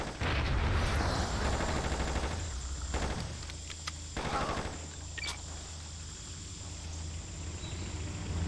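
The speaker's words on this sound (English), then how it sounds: "Who's shooting at me still?" Rapid bursts of gunfire from the video game Just Cause, loud and near at first, then thinning into scattered shots and distant booms over several seconds.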